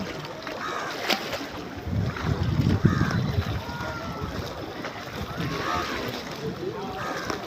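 A trawler boat on the Padma river rumbles steadily at moderate distance, with wind buffeting and water wash around it, while people talk nearby and a crow caws briefly.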